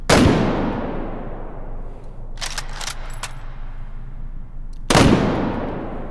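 AWM bolt-action sniper rifle in the H3VR shooting game fires two sharp, loud reports about five seconds apart, each with a long decaying tail, and a brief run of mechanical clicks comes between them.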